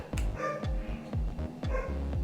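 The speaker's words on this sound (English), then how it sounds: "Excuse the dog if you heard a dog." A dog barks five times in a steady rhythm, fairly close but moderate in level, with no voices.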